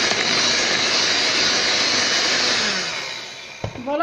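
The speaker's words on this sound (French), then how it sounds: "Voilà, donc vous mélangez très bien." Steady loud whir of an electric mixer beating cupcake batter, a dense continuous drone that fades slightly near the end before a brief knock.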